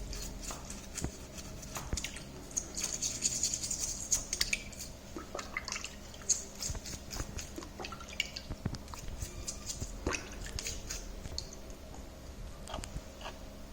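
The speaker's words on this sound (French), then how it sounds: "Et on brosse, on lave notre fossile." Fossil being brushed and washed with water, giving irregular wet scrubbing, dripping and splashing sounds at close range, scattered and quiet with no speech.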